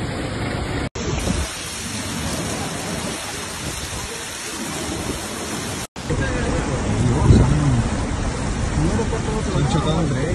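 Torrential rain pounding down on a flooded town in Catalonia, Spain, a loud continuous roar of rain and rushing floodwater, with voices talking over it and brief cuts in the sound.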